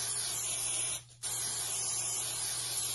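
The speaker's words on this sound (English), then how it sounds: "we're gonna spray." A continuous aerosol hiss of Pam cooking spray on a flat pan, steady and close, with a brief pause near the middle before spraying resumes.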